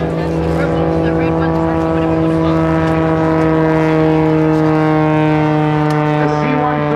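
A C-130J-30 Hercules with its new engines flies a demonstration at the 2010 Rhode Island Air National Guard open house airshow, giving a loud, steady turboprop drone with strong sustained tones throughout.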